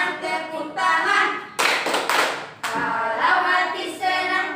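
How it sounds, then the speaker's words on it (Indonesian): Children clap their hands in a Malay classroom action song at a Jember elementary school, giving a few bursts of rhythmic group clapping between stretches of sung voices. "Kalau hati senang tepuk tangan,"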